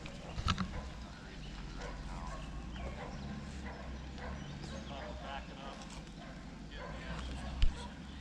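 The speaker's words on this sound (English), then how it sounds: "I know those dogs are gonna be obnoxious" Dogs, including a pitbull, bark in a few sharp bursts at a campsite, near the start and again later, over a steady outdoor rumble; speech is faint in the background.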